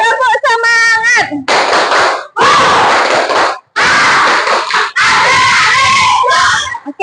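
A primary school class does a rhythmic spirit-clap routine, loud bursts of many hands clapping in unison alternating with children's voices shouting and chanting, separated by brief pauses.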